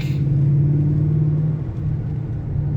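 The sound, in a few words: car exhaust revving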